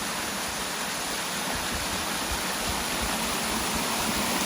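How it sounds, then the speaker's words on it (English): A multi-level waterfall flows steadily in late January, a dense continuous roar of rushing water heard up close with no other sounds. "It's really a pretty cool waterfall in terms of how many levels it has."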